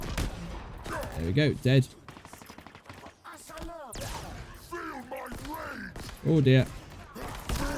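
Bursts of Mangler pistol fire in Halo Infinite, with sharp repeated shots in quick clusters amid combat noise, while someone talks over the action.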